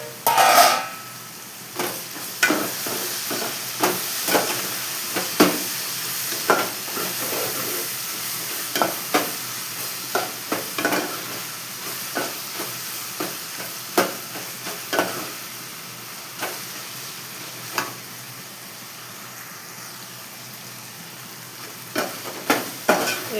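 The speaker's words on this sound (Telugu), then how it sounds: "వేగుతున్నాయండి" Ivy gourd (dondakaya) pieces fry in a pan with a steady sizzle, punctuated by regular clinks and scrapes of a spoon stirring, close up and with no talking.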